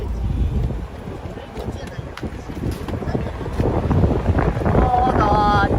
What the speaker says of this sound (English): Suddenly it's very windy.